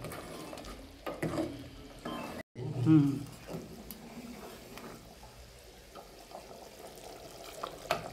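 Roasted coconut tipped into a Rajasthani vegetable curry simmering in a pan, giving soft frying and stirring sounds with a brief gap and a small thump, fairly quiet throughout.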